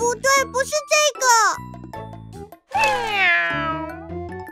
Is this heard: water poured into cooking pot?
no